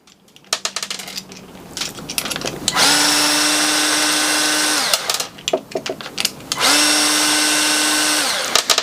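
A power drill unscrews bolts on a band-type metal heater for a hydrant angle valve, with two long close whirring runs, each ramping up and holding steady, separated by rattling, clicking handling of metal parts and no speech.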